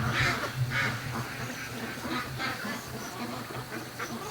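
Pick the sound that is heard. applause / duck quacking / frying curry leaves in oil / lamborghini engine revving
duck quacking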